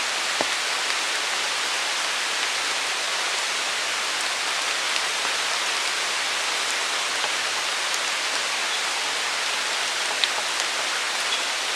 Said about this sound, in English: It was still drizzling when we got to the river.